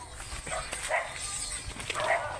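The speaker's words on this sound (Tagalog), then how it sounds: "May aso guys." A farm dog on a mango farm lets out a few short barks or yips at moderate distance, over outdoor background noise with a voice nearby.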